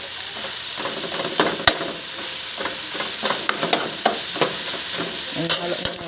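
Meat sautés in a frying pan for ginisang upo with chicken cubes, a loud continuous sizzle broken by scraping and clanking strokes of a spoon stirring against the pan.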